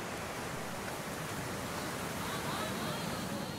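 Ocean surf on Reynisfjara's black sand beach in Iceland on a freezing day, a steady broad wash of breaking waves rolling in continuously at moderate loudness, with no voices.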